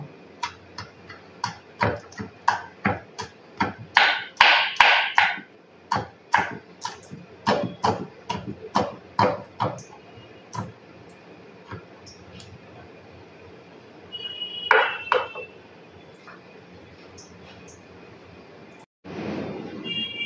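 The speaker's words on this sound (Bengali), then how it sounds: "এখন আমি এই লঙ্কা দুটোকেও কিন্তু কেটে নেব" A knife chops through two green chillies on a board in a rapid series of crisp, close taps, then the cutting slows and pauses before a few final knocks near the end, with no voices.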